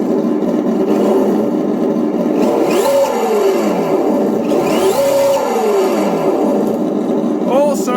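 GT Power sound-and-light kit in an RC car playing a synthetic engine effect, a loud steady drone with two rising and falling revs and a brief tone at the end, fairly close.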